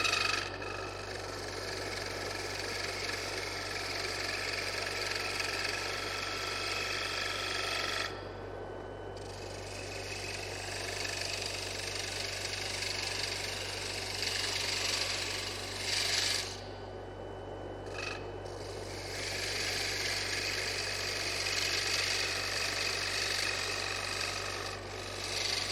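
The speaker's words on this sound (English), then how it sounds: "Now you can hear me really rub that bevel right there, even though I'm trying to float it." A woodturning gouge rubs its bevel on a spinning wooden box blank on the lathe, a continuous close raspy scraping over the steady motor hum, with a few brief pauses as the tool lifts off.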